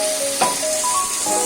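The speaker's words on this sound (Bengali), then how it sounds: "লবণ আর হলুদ দিয়ে আরো ভালো করে নাড়িয়ে নেব।" Salt and turmeric are stirred into a frying vegetarian chhana (cottage cheese) curry, giving a steady close sizzle with a brief louder stirring swish near the start.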